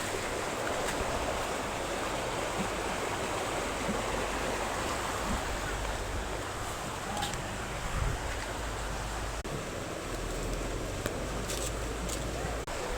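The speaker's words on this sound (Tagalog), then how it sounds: "Ayan guys, yung baha sa amin." Floodwater flows near a house, a loud continuous rushing wash of water that stays steady throughout.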